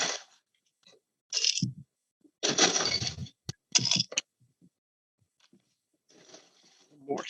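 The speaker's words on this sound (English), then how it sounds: "Go ahead and get myself some fresh ice here in my bucket glass." Fresh ice cubes dropped into a bucket glass, landing in several short clattering bursts and scattered clinks, close by, with brief talk in between.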